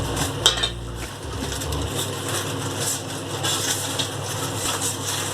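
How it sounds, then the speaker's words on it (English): Aluminium foil is pressed and crinkled into a bowl in a home kitchen, giving close, irregular rustling and crackling with a few sharper scrapes and clinks against the bowl. "for patri we are going to place a bowl in it and place a aluminium foil"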